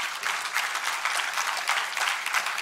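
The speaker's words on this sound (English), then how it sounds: "Let's all give Jimmy a round of applause." A church congregation claps together in a round of applause, with dense, continuous clapping holding at a steady volume for a few seconds with no voices heard.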